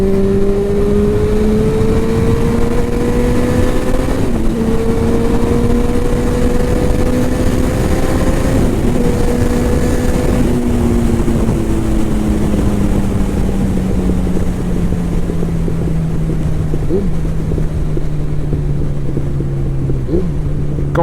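A motorcycle rides along a road, its engine droning steadily at cruising speed with pitch slowly rising and falling through gear changes, loud and close over constant wind rush.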